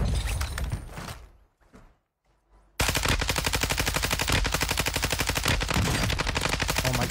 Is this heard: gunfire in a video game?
yes